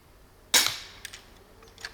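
A crossbow fires at a target sighted in at 20 meters, giving one sharp, loud release snap with a brief ringing tail, followed by a few faint clicks.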